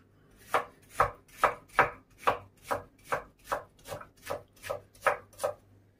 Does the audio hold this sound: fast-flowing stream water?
no